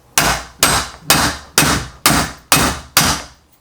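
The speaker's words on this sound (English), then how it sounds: "and hammer that in on both sides." Seven evenly spaced, loud hammer blows drive a knurled bolt into a motorcycle wheel lift, each sharp metallic strike ringing briefly before the next, heard alone without talk.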